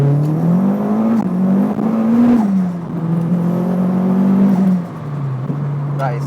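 A Renault Clio 172 Cup Turbo with about 420 bhp pulls hard through the gears, its loud engine note rising, dropping at each shift, then rising again, steady and close from inside the car.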